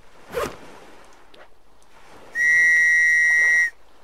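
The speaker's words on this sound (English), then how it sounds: "It's definitely a whistle." A whistle is blown in the survival game Stranded Deep, one loud, steady, shrill tone lasting just over a second, preceded by a few soft rustles.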